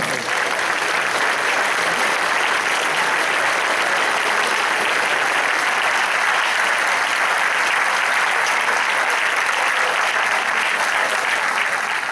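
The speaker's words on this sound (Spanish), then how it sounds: "Un aplauso" Steady, loud applause from a large crowd at a band concert fills the whole stretch without pause, dense and even throughout.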